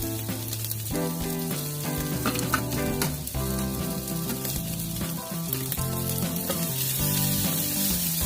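A carbonara ingredient fries in a dry pan without oil or butter over medium heat, giving a steady, continuous sizzle that runs under prominent music.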